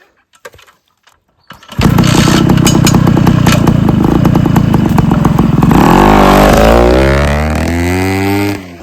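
A 1972 OSSA vintage trials motorcycle roars to life after a few faint knocks, then revs hard and loud up close as it rides fast on a dirt trail, the engine pitch climbing through the gears.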